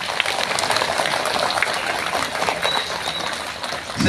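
Crowd applause at an Indonesian Independence Day ceremony marking the 79th anniversary, a loud, dense wash of clapping that stays continuous and even, with no voices on top.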